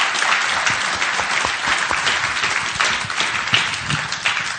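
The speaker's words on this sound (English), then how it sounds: "So I'd like you to give our panel here, who did a wonderful job, a round of applause." A conference audience gives a panel on growing business tourism a full round of applause: dense, steady clapping that holds strong throughout.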